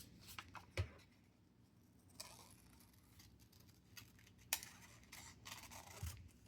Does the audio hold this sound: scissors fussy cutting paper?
yes